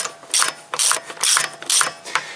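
Quick bursts of a hand ratchet clicking as a driveshaft bolt is fastened on a 2007 to 2015 Toyota Corolla, five short close ratcheting strokes in steady rhythm, heard alone.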